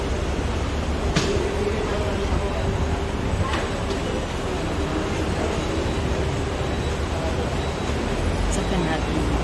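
Steady low rumble of a train at North Point MRT station in Singapore, with a continuous broadband roar and a few brief sharp clicks, while a person talks over it.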